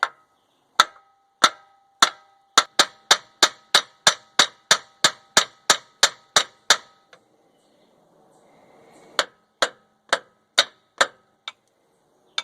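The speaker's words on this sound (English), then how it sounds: "or you can use a hammer and tap it here." Sharp metallic hammer taps on a Buick's front suspension ring out in a quick steady series, pause briefly amid faint rustling, then resume in another run of strikes.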